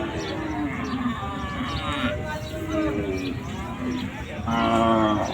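A bull at a cattle market moos repeatedly, long low drawn-out calls close by, the last one louder, with farmyard background noise.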